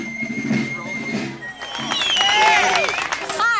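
Crowd applause and scattered cheers rise at an outdoor Independence Day block party before a parade, a clattering wash of many hands with voices mixed through it, growing fuller toward the end.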